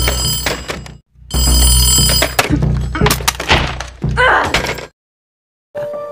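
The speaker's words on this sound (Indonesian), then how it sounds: "tiba-tiba ada suara telepon berdering" A telephone rings in a tense Stranger Things season 2 scene, its bell bursts broken by heavy thuds and smashing knocks as the phone is destroyed, with brief silent gaps between.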